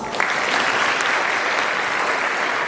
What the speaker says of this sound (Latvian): Vēlreiz aplausi!